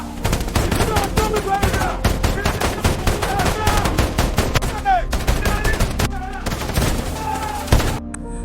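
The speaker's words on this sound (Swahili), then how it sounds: "Mvua ya risasi ilianza." Heavy gunfire in an action-movie bank robbery shootout, dense bursts of rifle and machine-gun shots rattling continuously and loud for the whole stretch, with faint voices underneath.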